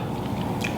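Close crunchy bite and chewing on a sausage dipped in garlic butter sauce, one brief burst with no talking.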